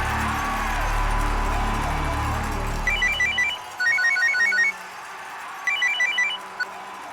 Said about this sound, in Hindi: डिकिंसन को फोन लगा।